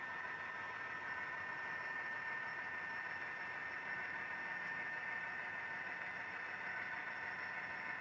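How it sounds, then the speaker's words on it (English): EMD 645 turbocharged diesel engine of an SDL39 locomotive at notch 8, a steady droning hum with turbo whine, continuous and even throughout with no talking. "But it has got that 645 turbo noise."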